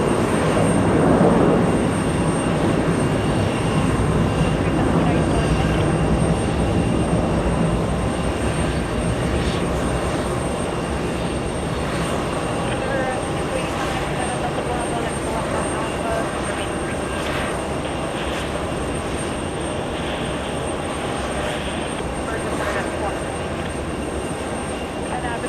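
An ITA Airbus A330-200 airliner heading for Rome at JFK airport gives off a loud, steady jet engine roar that holds unbroken throughout and eases off slightly toward the end.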